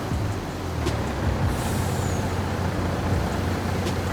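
A truck at a building site gives a sharp hiss of air-brake release over a steady, loud diesel engine rumble, close by, with no talking.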